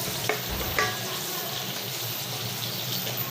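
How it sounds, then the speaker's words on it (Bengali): Potatoes frying with turmeric and salt are stirred in a pan, a close, continuous sizzle with scraping stirs and a couple of brief knocks. "একটু ভালো করে নেড়ে চেড়ে নেব যেন হলুদ আর নুনটা ভালো করে মিক্স হয়ে যায়"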